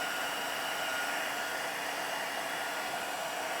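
A heat embossing tool blowing hot air over embossing powder on a craft notebook cover, a constant close whirring fan rush like a small hair dryer, steady and unbroken.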